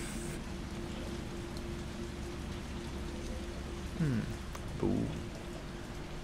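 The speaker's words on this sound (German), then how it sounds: "Draußen ist es am Regnen." Steady rain falls outside in the Resident Evil 3 Remake video game, a constant soft hiss throughout, with a couple of short vocal sounds breaking in near the end.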